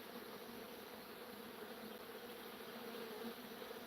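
Bees buzzing in a steady, faint, continuous drone with no breaks, alone without talk.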